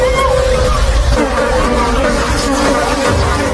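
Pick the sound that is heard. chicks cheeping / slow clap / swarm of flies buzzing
swarm of flies buzzing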